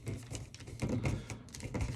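Paper being folded for origami, close by, giving a steady run of soft crinkles and taps over about two seconds.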